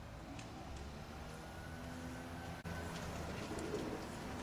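Racing pigeons coo softly in a loft, with low, repeated throaty calls over a steady background hum of distant traffic.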